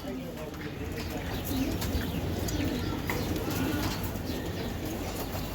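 Pigeons coo repeatedly in low, rolling calls against a busy background with other birds chirping and people talking nearby.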